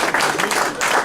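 Loud, dense applause from a room of coaches at a meeting, steady continuous clapping close by that fills the whole moment without pause.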